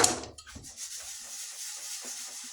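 Sandpaper rubbing along a wooden replacement axe handle, a few soft scraping strokes, close and fairly quiet.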